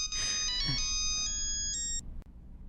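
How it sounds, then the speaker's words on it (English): A melodic phone ringtone plays a bright sequence of electronic tones for about two seconds, then cuts off abruptly, leaving only faint room noise and no talk. "Can we kill the annoying ringtone?"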